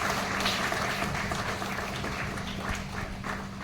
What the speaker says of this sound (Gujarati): ફરીથી એકવાર તાળીઓના ગડગડાટથી એમના આગમનને વધાવી લઈએ છીએ.